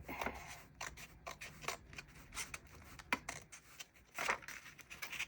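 Scissors snip and trim paper for a bullet journal page in an 8x8 notebook, a series of quiet, close, irregular cutting strokes with no talking.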